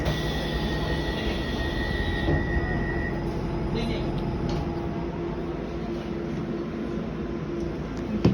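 A Docklands Light Railway train running from Heron Quays to Canary Wharf in London, with a steady rumble of wheels and motor heard from inside the carriage, a whining tone early on and a faint on-board announcement.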